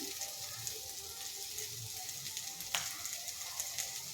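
Bitter gourd pieces fry in a pan with a steady, close sizzle, holding an even crackling hiss throughout with a brief sharper pop near the end.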